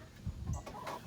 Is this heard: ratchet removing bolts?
no